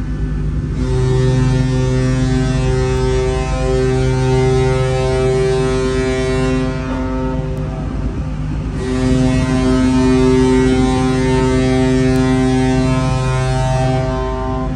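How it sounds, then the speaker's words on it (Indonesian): The deep horn of the 1980s passenger ship KM Lawit blasts twice on departure, long and loud, the second starting after a short gap, with steady engine rumble and wind beneath. "Ini klakson ketiga."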